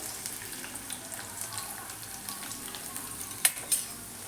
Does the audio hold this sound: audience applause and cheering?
no